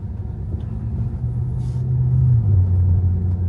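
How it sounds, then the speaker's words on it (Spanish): A Tesla Model 3 pulling forward from a stop on a road, its low steady rumble of tires and motion rising slightly as it gains speed, heard from inside with no talk. "Ya está en verde y ya va el coche avanzando."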